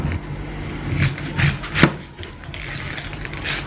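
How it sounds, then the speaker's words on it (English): A knife cuts through an onion on a cutting board, making a few close, sharp chopping thuds and crisp slicing sounds spread over a few seconds. "I'm just gonna cut my onion first."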